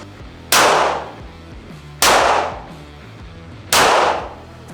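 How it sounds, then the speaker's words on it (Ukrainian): Three sharp gunshots from a rifle aimed at a single target point ring out at a steady, unhurried pace, each loud crack trailing off in a short echoing decay. "прицілюємось і 5 пострілів в одну і ту саму точку"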